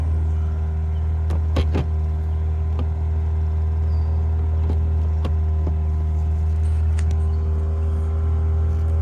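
Mercury 9.9 outboard motor runs steadily at close range, a loud continuous low drone with a few faint clicks and knocks over it, no talking.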